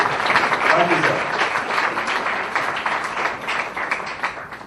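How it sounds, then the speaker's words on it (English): Audience at an education launch event applauding Dr. Tharoor, a steady wash of clapping with voices talking over it, gradually thinning out. "Let's have a huge round of applause once again for Dr."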